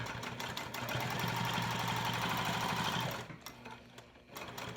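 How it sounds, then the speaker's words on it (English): A sewing machine stitches around a cork clutch at an eighth-inch seam, running in a steady, close mechanical whir for about three seconds before stopping into quieter handling sounds. "Now what I'm going to do is just sew all the way around this to create one compartment."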